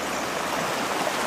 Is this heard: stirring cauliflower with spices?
no